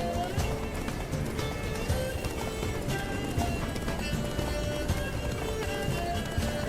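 Hooves pound rapidly as a horse gallops in The Witcher 3 video game, a dense rhythmic clatter under a busy, loud mix of game sound, with a voice speaking at moments.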